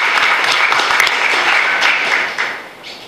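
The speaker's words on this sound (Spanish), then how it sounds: "Esto pidamos un aplauso porque es importante para nosotros" An audience at a municipal agreement-signing ceremony in Salto claps in a dense burst of applause that stays loud, then thins and fades over the last second.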